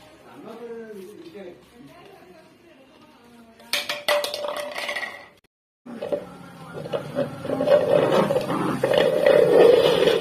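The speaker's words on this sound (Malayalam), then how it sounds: "ആ പാത്രം തിരിച്ചിടാൻ വേണ്ടിട്ട് മാത്തം കിടന്ന് കഷ്ടപ്പെടുക" An animal struggles to flip over a metal pot, with loud clattering and scraping bangs in uneven bursts, mixed with voices talking nearby.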